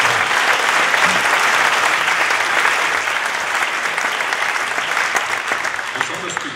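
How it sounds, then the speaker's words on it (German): Concert audience applauding at a town band's Christmas-season concert, a thick, sustained roar of many hands clapping that stays loud throughout and eases slightly toward the end. "Das heißt, ich glaube, ein besonderer Applaus."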